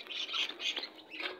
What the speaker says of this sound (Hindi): और ऑस्ट्रेलियन तोते